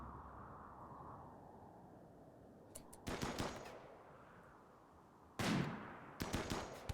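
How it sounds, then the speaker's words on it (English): Gunfire from shooting practice in the colony game Rimworld, with a few short, faint bursts of shots spaced apart over a low background hum. "Get some shooting practice in."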